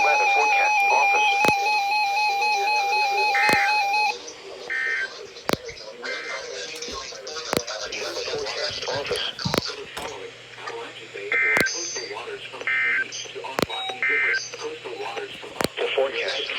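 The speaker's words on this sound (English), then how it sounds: "Weekly test of the NOAA radio warning alarm and an emergency alert system" Weekly test tones of a NOAA weather radio warning alarm and emergency alert system, heard on a RadioShack 12-382 weather radio: repeated sharp electronic tone bursts and data chirps sounding loudly over a synthesized broadcast voice.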